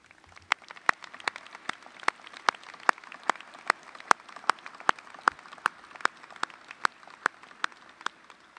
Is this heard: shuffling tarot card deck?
no